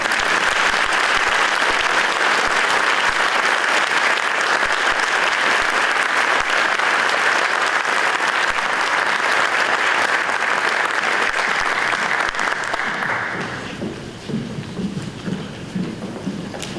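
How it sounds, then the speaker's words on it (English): A large audience at a high school scholarship night applauds the recipients, loud sustained clapping that carries on steadily before tapering off into scattered claps and room murmur. "Round of applause for all."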